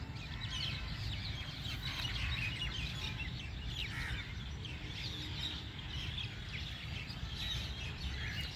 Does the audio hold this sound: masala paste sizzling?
no